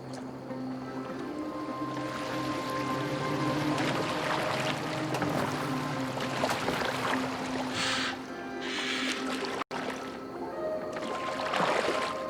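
Boat gliding across open water in Assassin's Creed Valhalla, a steady wash of water and wind with creaking hull tones and a sustained musical drone, continuous and fairly loud throughout with a brief dropout near the end.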